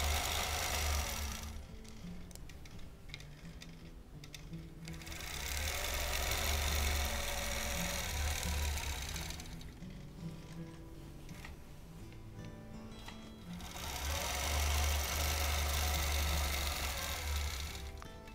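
A sewing machine quilts straight lines along a ruler with polyester thread, its steady motor hum and rapid needle stitching running in long, close bursts that swell and ease off between passes.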